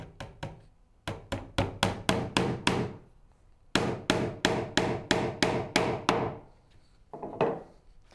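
Nails driven into a wooden Shaker Enfield cabinet with a hammer, sharp, close blows in quick series of about six to eight, separated by brief pauses, then one last tap.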